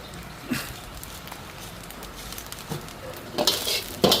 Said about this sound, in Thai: พัดส่วนผสมของข้าวให้เข้ากัน